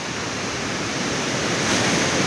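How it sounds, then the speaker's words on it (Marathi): Sea waves roll onto Velneshwar beach at high tide behind a temple, a steady, loud wash of surf with wind, no voices heard. "इथपर्यंत येत आहेत लाटा,"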